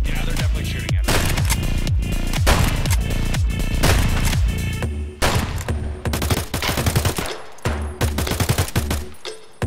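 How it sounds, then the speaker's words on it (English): Enemy gunfire in Escape from Tarkov: loud, dense bursts of rapid shots crack out close by, almost continuous for the first half, then break into separate sharp volleys with short gaps. "Yeah, they're definitely shooting at us."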